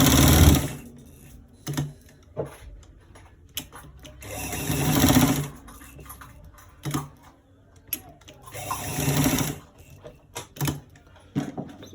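A sewing machine stitches a short sleeve in bursts of rapid mechanical chatter, starting and stopping several times with quiet pauses and fabric handling in between, close and clear.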